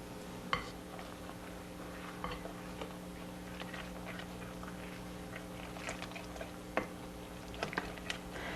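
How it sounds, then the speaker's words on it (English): Batter ingredients are stirred together in a bowl, producing faint, soft squishing and occasional light taps against the dish over a low steady hum. "Mix these ingredients well."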